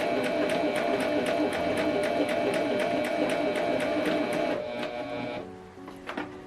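A Pfaff Coverlock 4.0 machine sews its first stitches with a fast, even mechanical whir and rapid clicking rhythm, then slows and stops near the end.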